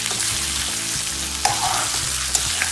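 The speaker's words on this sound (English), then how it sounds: "We're just gonna fry it a little bit" Roasted pork fries in a pan with garlic and onion, giving a dense, continuous sizzle close by, with a couple of small utensil taps against the pan and no one talking.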